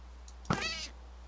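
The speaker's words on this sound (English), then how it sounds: "I heard a kitty." A single short cat meow from the video game Minecraft, modded Feed The Beast, where the sound signals a nearby witch. It rises quickly against a quiet background, with a faint tone beneath it.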